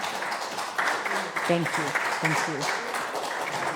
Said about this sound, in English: And now, big round of applause.